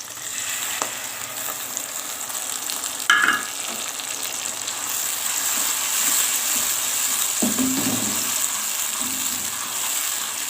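Onions and spice paste fry in a pan for masala pulao, giving a steady close sizzle with a couple of brief stirring scrapes partway through. No one speaks.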